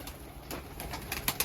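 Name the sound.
birds (pigeons) let out of the loft to sunbathe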